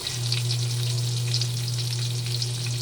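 Mackerel sizzles and spits steadily in a hot pan, a close, continuous frying crackle with no voices over it.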